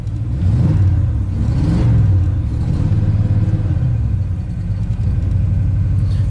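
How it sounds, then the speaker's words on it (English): A rebuilt Ford big block V8 revs in a low, steady rumble that swells twice early on and then settles into a rough idle, with no voices. "Like if you rev it up, it'll just stall out unless you keep it going."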